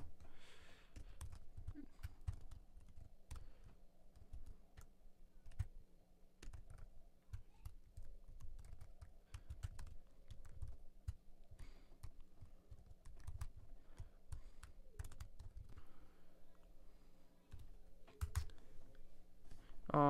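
Rapid keystrokes on a computer keyboard tap away in irregular bursts with brief pauses, close and quiet against a faint steady hum.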